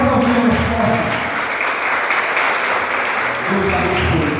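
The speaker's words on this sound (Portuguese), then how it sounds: "Aplauda ao Senhor mais forte." A church congregation bursts into loud, sustained applause, dense and steady clapping filling the room for several seconds, with voices faintly mixed underneath.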